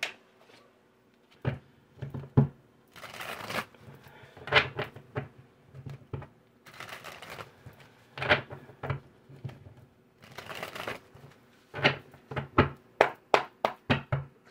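A tarot card deck shuffled and handled at a table, with irregular soft taps, knocks and riffling bursts of cards, close and quiet with gaps between, no talk.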